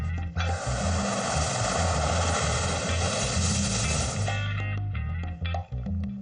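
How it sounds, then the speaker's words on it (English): A propeller aircraft's engine drones loud and steady from close by in flight before landing, with a low rhythmic pulsing beneath that eases toward the end. "After this unforgettable flight, we are going to land once again."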